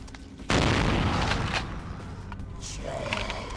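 Shotgun fire in Vampire: The Masquerade - Bloodlines breaks out with a sudden loud blast, followed by a sustained rumbling roar and a few further sharp reports. A voice talks over it.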